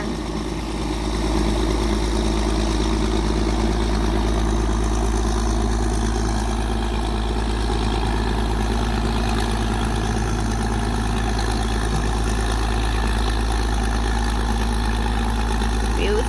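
A low, steady engine drone runs throughout, a tugboat motor idling on the Chao Phraya River with a constant rumble and faint voices underneath.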